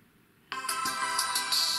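Game sound from Sonic Dash plays through the speaker of a Nokia 5.3 smartphone. A bright, busy burst of music and effects starts suddenly and holds at a fairly loud, even level, with no voice over it.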